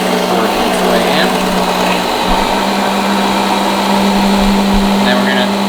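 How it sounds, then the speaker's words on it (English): Work Sharp powered belt sharpener running steadily while a knife edge is stropped on a compound-loaded belt, a loud constant motor whir with a low hum and faint scraping, with someone talking over it. "we're gonna bring the knife to the belt"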